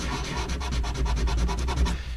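Brisk, steady sanding of a plastic part, with fast, even back-and-forth strokes close up and no talking.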